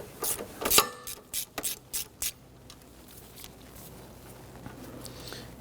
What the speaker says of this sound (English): we want to go ahead and loosen and remove the 17mm bolt.